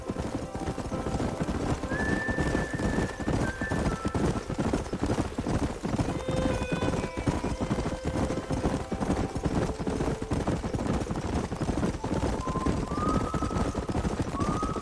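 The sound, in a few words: horses galloping in video game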